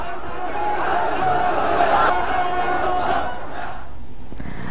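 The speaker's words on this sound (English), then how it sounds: "Crowd of Muslims and Islamic leaders came out in droves in Dhaka city in Bangladesh" A large crowd of Muslims and Islamic leaders gathers in Dhaka, Bangladesh, to mark the Prophet's birthday. A loud, steady roar of many voices chants and calls together, with a tonal edge running through it.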